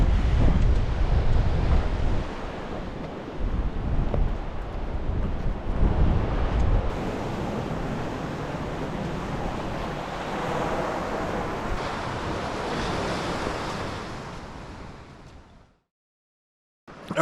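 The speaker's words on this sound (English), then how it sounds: "The wind is in now, although it's kind of nice having a bit of wind." Wind blowing steadily along a coastline where someone is land-based fishing for groper, a broad continuous rush with surf mixed in, fairly loud and unbroken for most of the stretch before cutting out abruptly near the end.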